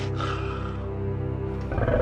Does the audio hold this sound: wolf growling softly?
yes